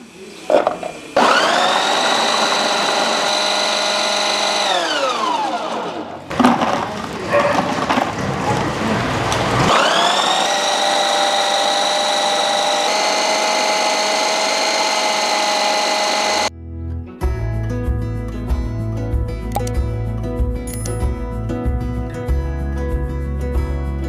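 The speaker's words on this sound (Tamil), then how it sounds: "நம்ம பிரீத்தி ஜோடியாக் மிக்சியில் காய் கட் பண்ணுற ஜார் இருக்குது நான் அதில் போட்டுக்கிறேன்" Preethi Zodiac mixer grinder with a vegetable-chopping jar cutting small shallots, loud whining motor runs in repeated bursts with brief stops between, then quieter clatter and handling sounds afterward.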